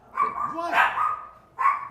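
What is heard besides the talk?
dogs barking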